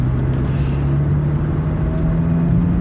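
Honda Fit Hybrid fitted with a Kakimoto Racing muffler, driving a winding mountain road on Mount Rokko; a steady, loud, low exhaust drone from inside the car.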